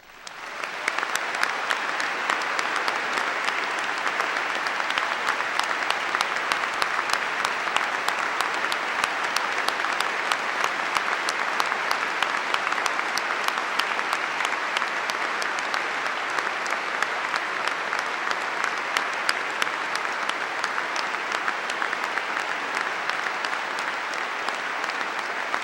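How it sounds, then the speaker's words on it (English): Sustained, dense applause fills a university commencement hall, a large audience clapping loudly and steadily without letup for the whole stretch. "Let us give them, the faculty and staff, a rousing round of applause."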